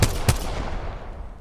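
Two sharp gunshot bursts from a first-person shooter video game, close and loud at the start, with a rumbling decay trailing off afterward and no talking.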